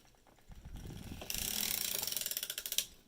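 A sock knitting machine works a 3x1 scallop top sock, its crank driving a steady, rapid ratcheting clatter of needles that grows louder and more even toward the end, close and with no voices.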